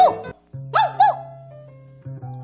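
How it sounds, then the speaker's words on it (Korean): A sheepdog barking in a children's story, with a few sharp, close barks standing clear over a low steady hum. "양치기 개가 짖는 소리"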